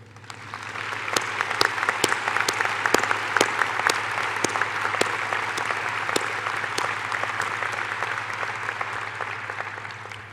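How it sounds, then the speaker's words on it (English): An audience in a hall claps for standing faculty members at a college Charter Day ceremony, steady applause with a few sharp individual claps ringing out over a low constant hum, sustained for about ten seconds. "please stand, and we will applaud"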